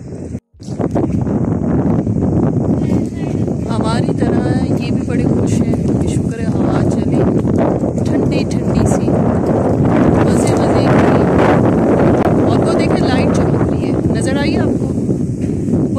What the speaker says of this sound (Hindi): ये देखिए जी, तेज हवा है, आपको नज़र आ रहा है, मज़े की हवा चल रही है